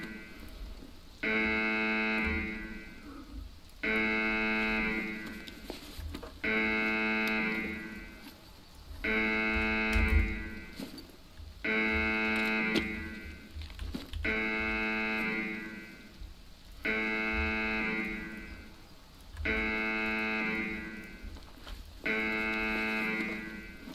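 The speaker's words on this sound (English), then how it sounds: "I literally cannot hear you over this fucking alarm" A harsh buzzing alarm repeats in regular blasts about every two and a half seconds, each lasting around two seconds, with brief gaps between.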